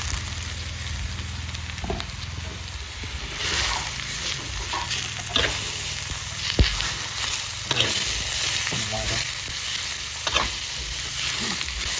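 Wild boar pork sizzles and hisses in a hot wok, with scraping and stirring clatters at irregular intervals, close and steady throughout.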